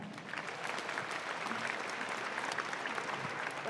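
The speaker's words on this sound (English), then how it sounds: "So let's give them a round of applause." University event audience at UNLV claps steadily, a broad, continuous wash of applause at moderate distance with no break over a few seconds.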